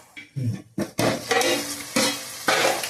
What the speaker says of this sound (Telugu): అదిగోండి ఉడుకుతా ఉన్నాయి ఇవన్నీ కూడా.